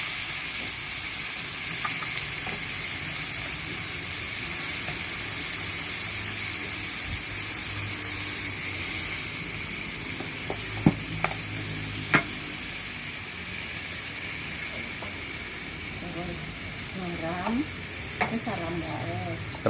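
Coconut milk poured into a hot pan for a kencur herbal remedy sizzles and hisses steadily, with occasional scraping stirs and clinks against the pan, no voices.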